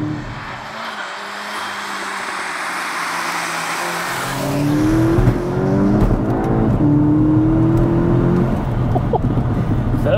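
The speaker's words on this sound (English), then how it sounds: "Good amount of induction noise from the R600 as well." A modified 500 bhp Skoda Octavia vRS with an R600 setup accelerates hard, the engine note rising through the revs with strong induction roar and a whoosh, loud and close from inside the car.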